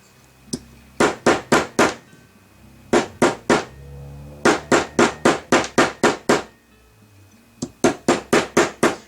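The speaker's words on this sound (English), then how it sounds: "and just kind of gently hammer." A nylon mallet taps a wire pendant on a metal anvil in quick groups of three to six sharp, close strikes separated by brief pauses.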